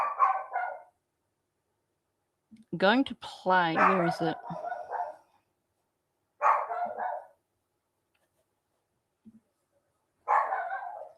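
A dog barks in bursts of yips and barks indoors, with a person talking between and over the outbursts.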